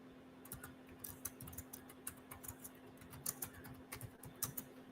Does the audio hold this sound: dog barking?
no